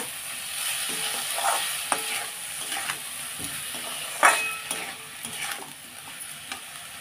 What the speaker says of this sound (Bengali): এইবার ভালো করে এটাকেও একটু মশলাটার সাথে মিশিয়ে নেব।